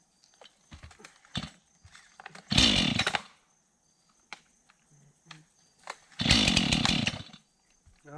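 A chainsaw cuts a piece of fallen tree in overgrown ground by a beaver dam creek, with two loud, close bursts of full-throttle cutting separated by quieter idling, sputters and knocks.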